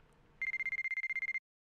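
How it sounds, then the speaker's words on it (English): An alarm rings in the White Album 2 video game as a rapid run of about fifteen identical high electronic beeps, loud and evenly spaced, lasting about a second before cutting off into silence. "Freaking turn off your damn alarm."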